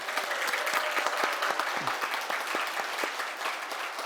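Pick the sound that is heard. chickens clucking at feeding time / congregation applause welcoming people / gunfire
congregation applause welcoming people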